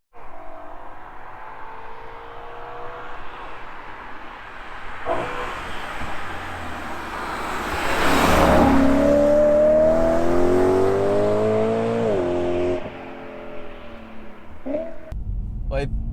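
A BMW M3 E92 fitted with an Akrapovic titanium exhaust revs up, its engine note rising and sweeping through gears to a loud peak mid-clip before dropping back, with someone talking over the idle before and after.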